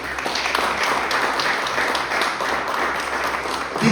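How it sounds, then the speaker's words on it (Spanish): Sustained applause from a church congregation at an evangelical Spanish-language service, steady dense clapping filling the room at even loudness throughout, with no voices standing out. "Den un aplauso al Señor."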